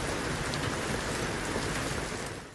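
Heavy rain pours during a flood, a dense, loud, unbroken roar of water that fills the whole stretch and fades slightly at the very end.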